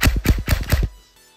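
A CYMA Glock 18C electric airsoft pistol with an upgraded battery fires full auto, a quick burst of about five sharp mechanical clacks in rapid rhythm, loud and close, then stops.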